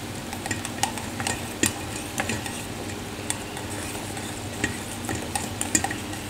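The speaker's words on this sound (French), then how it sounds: "pensez toujours à remuer, voilà, plutôt constamment, histoire que les ingrédients se mélangent plus ou moins" Spoon stirring a homemade hair milk mixture in a pot on the stove, steady scraping and light clinks of utensil against metal over a soft sizzle, close and alone.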